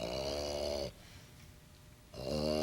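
Loud nasal snoring from a sleeping man indoors: two long, harsh rasping breaths separated by a brief quiet pause, close to the listener.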